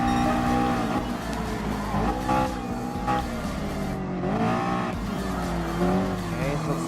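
Race car engines roaring in the Gran Turismo Sport video game, with a LaFerrari among the field; a continuous loud, shifting engine drone with rising and falling pitch sweeps as cars pass, and no talk.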